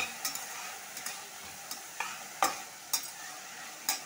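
Onions frying in a pan for a spiced jackfruit curry: a soft steady sizzle broken by short scraping stirs of a spoon at irregular intervals, close and fairly quiet, with no voices.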